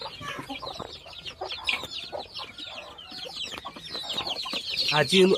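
Local Assam chickens and young chicks cluck and peep on a poultry farm, a busy overlapping flock of close, continuous calls with a few louder squawks toward the end.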